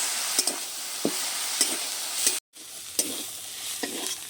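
Leafy red greens are stirred and fried in a pan, a constant sizzle with periodic clanks of a spatula against the pan and a brief cut to silence midway.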